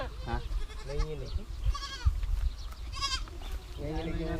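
A goat bleats several times in short, wavering calls, close by, with people talking around it.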